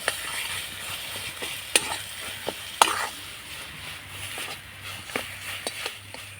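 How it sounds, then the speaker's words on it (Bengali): A spiced pea filling stirred and fried in a pan: a spoon scrapes and knocks against the metal in irregular strokes, some sharp clacks standing out, over a low, steady sizzle, close and moderately quiet. "এইভাবে করে একটু নাড়াচাড়া করতে করতে খুব ভালো করে কষিয়ে নিতে হবে"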